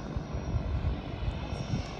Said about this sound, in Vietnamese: Có cái máy bay nó đang hạ cánh hay là nó cất cánh đây ta, ở ngay dưới biển, trên mặt biển này các bạn.